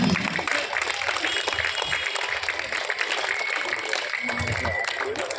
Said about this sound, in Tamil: பார்வையாளர்கள் போட்டியாளர்களை கைத்தட்டி உற்சாகப்படுத்துமாறு கேட்டுக்கொள்கிறோம்.